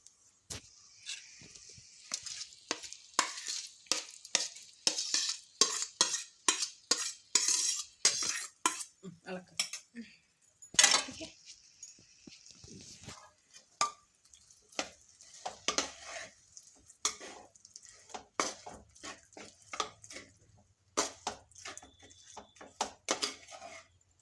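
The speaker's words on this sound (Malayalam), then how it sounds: "സ്ഥിരമായിട്ട് ഇളക്കുമ്പോൾ" Raw banana cutlet mixture with jaggery and coconut is stirred in a pan, giving repeated sharp scrapes and clinks of a spoon against metal in an irregular rhythm, close by with no talk.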